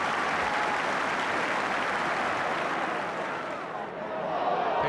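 A football stadium crowd at a Tottenham Hotspur versus Liverpool match breaks into sustained, dense applause and cheering, heard from a distance as a steady wash that dips slightly and then swells again.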